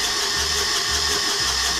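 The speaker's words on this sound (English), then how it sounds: "that's the starter working" A boat engine's starter motor cranks steadily for about two seconds, a loud continuous whirring churn with no voices over it.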